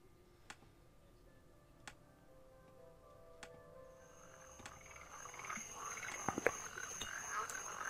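A frog in the video game Rusty Lake Paradise gives faint, evenly spaced clicking croaks over quiet ambience, and a fuller, louder rattling croak builds toward the end.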